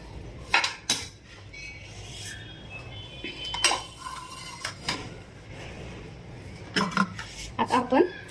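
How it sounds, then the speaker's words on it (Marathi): Bitter gourd stuffing is mixed with a little oil in a metal bowl, producing irregular clinks and scrapes of a spoon against the dish with quiet pauses between, close and moderately loud. "त्यामध्ये आपण थोडंसं तेल पण टाकू थोडंसं काहीतरी नॉर्मल हे सगळं मिक्स करून घेऊया"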